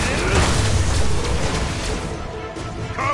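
Booming explosion in an old video game, a loud rumbling blast with dense low-end noise that fills the clip and fades slightly toward the end, with game voices mixed in.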